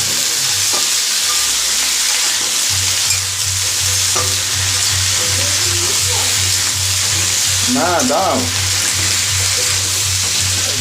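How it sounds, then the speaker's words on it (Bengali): Potato, pumpkin and flat beans sautéing in hot oil, a loud continuous sizzle with stirring scrapes throughout and a brief word spoken near the end. "আলু কুমড়ো সিম যেটা আছে সেগুলো আগে দিয়ে দিলাম এবার সুন্দরভাবে একটু সাঁতলে নেবো"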